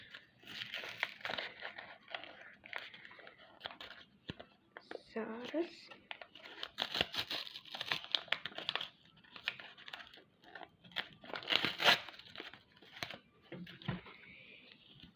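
Crinkly plastic rustling and tearing as a Kinder collectible packet is opened close by, with several bursts of crackling, while a voice speaks quietly over it.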